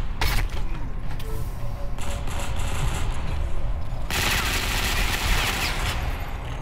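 Automatic gunfire in the online shooter Ghost Recon Phantoms, rapid bursts of shots close by with mechanical clanks, a dense sustained volley in the last few seconds.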